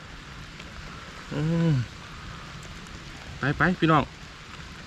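Rain falls steadily outdoors at night beside a reservoir during a flash flood, a constant hiss throughout while someone speaks briefly twice over it.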